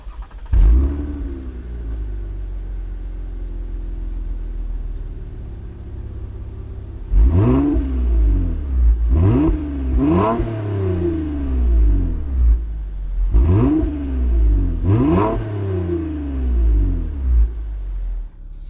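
A 2020 Toyota Camry TRD exhaust rumbles low, deep and throaty at idle, then gives several short revs that rise and fall in quick bursts.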